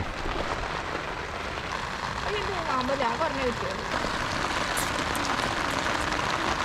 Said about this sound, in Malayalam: നല്ല കിടുക്ക മഴയാണ് കേട്ടോ